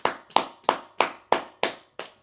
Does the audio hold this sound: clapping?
yes